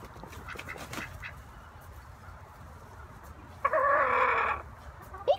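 Ducks and chickens in a coop, with a low, steady background of birdsong and poultry rustle, then a loud, close burst of raspy squawking or quacking lasting about a second, followed by a short sharp call at the end.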